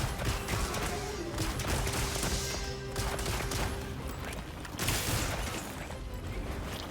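A light bowgun firing special ammo in Monster Hunter Wilds rattles out dense, rapid bursts of gunfire with crashing impacts, loud and continuous with a short lull in the middle.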